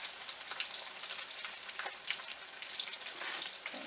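Catfish fillets fry in hot grease with a steady, dense sizzle and crackle that fills the whole stretch, with small bursts of popping and no talking.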